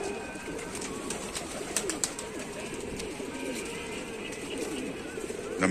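Pigeons coo steadily in a loft, soft repeated rumbling calls layered over one another at close range, with occasional wing flutters and light shuffling throughout.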